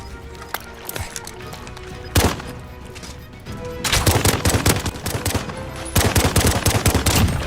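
Rapid video game gunfire during a competitive match ending with pistol shots, sharp repeated reports building into dense, loud volleys after a sparser opening.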